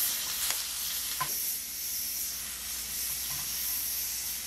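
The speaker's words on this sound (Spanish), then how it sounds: "Y los voy a sofreír un momentito." Onions sautéing in oil in a pan while preparing a country-style beef tongue dish give off a steady, close frying sizzle and hiss, with a couple of soft stirring clicks and no talk.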